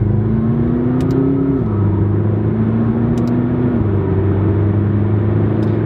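A McLaren 12C without the sport exhaust accelerating under a roll-on throttle gives a steady, subdued engine drone. Two clear downward shifts in pitch mark gear changes, and the rumble is continuous and fairly loud from inside the car.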